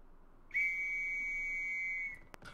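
A single long, piercing whistle blast in a WWI military roleplay game holds steady for about a second and a half, followed by a brief click, in otherwise near silence.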